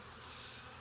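Honey bees buzz steadily and close during a hive inspection while a swarm is hived with a modified Demaree, a dense continuous drone with no talking.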